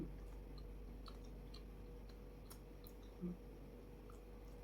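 Soft, close chewing of a plain steamed bun with no filling, faint and moist over a steady background hum, with no talk.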